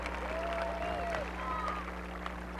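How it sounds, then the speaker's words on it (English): A graduation commencement crowd applauds in a large venue, a steady wash of many hands clapping, moderately distant and even throughout, with a faint tone sustained beneath. "Give yourselves a hand."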